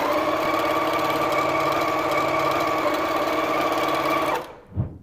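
A sewing machine runs steadily, stitching fabric pieces with a quarter-inch seam for a pumpkin pattern, a continuous close mechanical hum that stops abruptly near the end with a brief thump.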